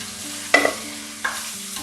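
Salt-marinated chicken dropped into hot oil with garlic-ginger paste for a chicken karahi, two sudden loud sizzling bursts as pieces go in, over a low background hum.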